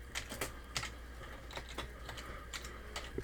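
Quiet, close keystrokes on a computer keyboard as a short note is typed, an irregular run of light clicks over a low background hum.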